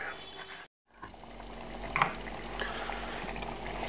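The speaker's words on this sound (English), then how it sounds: "This continues to simmer away, and you can see that the liquid is reducing." Romanian pork stew (tochitură) with tenderloin simmering in a pot, a steady low bubbling hiss with a brief gap early on, close and moderately quiet.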